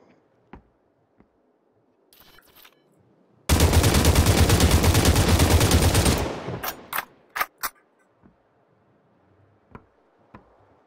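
Sustained automatic gunfire in a shooter video game, a loud unbroken burst of nearly three seconds followed by a few single shots and scattered fainter pops.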